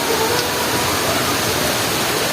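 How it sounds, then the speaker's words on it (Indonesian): Rain falls outdoors as a loud, dense, steady hiss, uniform and close for the whole stretch, with no voices over it. "hujan."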